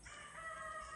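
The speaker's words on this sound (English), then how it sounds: "That rooster's cracking me up." A rooster crows faintly at a distance in the early morning, a single brief call with no one talking.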